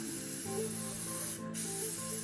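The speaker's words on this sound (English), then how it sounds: "you want to watch your spray pattern, and you want to overlap your pattern" Spray gun laying paint onto a guitar body, a steady close hiss that breaks briefly partway through and then resumes, with no talking.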